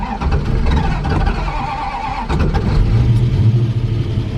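A carbureted car engine cranks and catches after stalling, then revs in uneven mid-pitched bursts before settling into a rough idle, loud and close.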